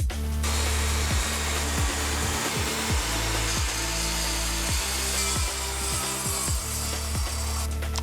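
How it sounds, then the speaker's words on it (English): A power saw resaws a wooden board into three pieces with a loud continuous whine, its pitch dipping repeatedly as the blade bites into the wood. "to resaw this down into 3 pieces"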